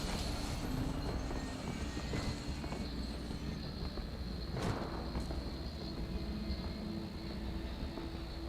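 An underground freight railroad in the Metal Gear Rising video game gives a steady, continuous rumble of train noise with a faint high whine, plus a brief louder swell around the middle.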